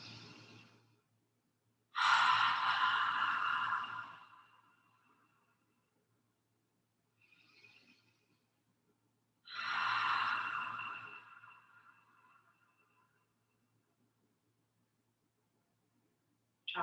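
Two slow, deep breaths drawn in through the nose and let out, each a long airy rush that fades gradually, with a faint shorter breath between them, close and quiet, with no talking.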